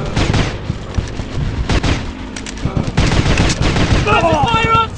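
Heavy gunfire in Commando Strike multiplayer, rapid overlapping bursts and loud booming shots, close and dense, with shouted voices mixed in.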